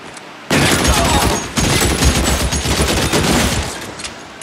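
Browning Automatic Rifle firing in the video game L.A. Noire: a sudden loud burst of rapid automatic gunfire kicks in after a brief quiet, with a short break around the middle before the shots resume and trail off.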